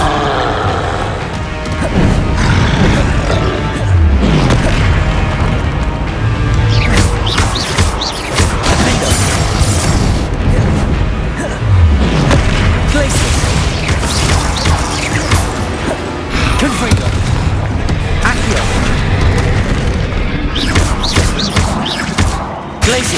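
Spell explosions from Confringo blasts in the Hogwarts Legacy video game crash and thud nearly without pause, loud and dense over a steady roar of combat effects.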